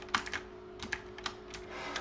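Quick bursts of typing on a computer keyboard, crisp key clicks in uneven clusters, close and fairly quiet, no talking.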